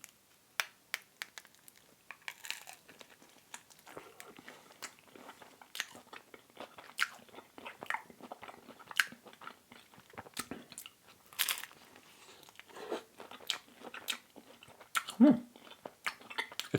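Close, crisp biting and chewing of crunchy vegan seaweed pizza, with repeated sharp crunches and wet mastication in an irregular rhythm against a quiet background, with no talking.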